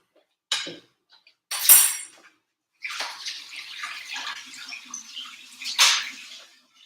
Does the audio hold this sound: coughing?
no